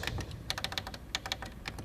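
Someone types on the small screen of a Yamaha LS9 digital mixer, giving a quick run of light, crisp taps close by. The taps are steady and evenly paced over a faint background hiss.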